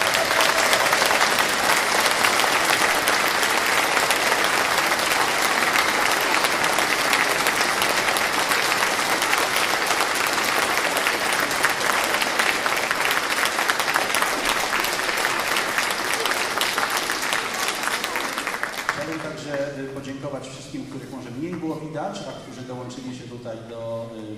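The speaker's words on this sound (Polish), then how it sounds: "Także brawa również." Loud, sustained audience applause fills a Christmas carol and pastoral concert hall in Ząbki, steady for nearly twenty seconds before fading as voices and music begin underneath.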